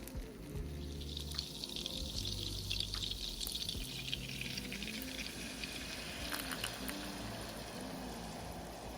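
Heavy cream and brown sugar pour into a pot of melted butter, a soft, steady liquid trickle and gentle sizzle heard faintly and close, with no talk.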